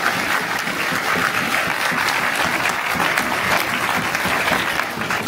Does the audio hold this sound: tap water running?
no